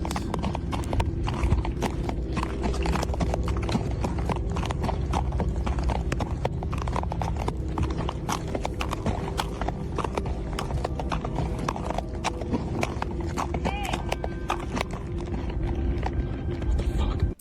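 Steady clip-clop of horse hooves walking on a hard surface, close and continuous, with faint voices and outdoor rustling in the background.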